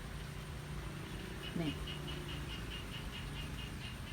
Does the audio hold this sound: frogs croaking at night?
yes